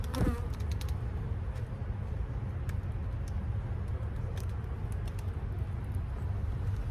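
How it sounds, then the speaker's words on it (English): A dense, steady drone of many riled-up honey bees buzzing close by an opened hive, continuous throughout with individual insects flying past. "I set the lid down too hard and I got those bees riled up."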